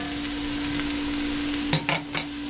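Ground turkey and Italian sausage fry in a pan with a continuous crackling sizzle, then a burst of louder scraping and spattering as the meat is flipped and stirred near the end.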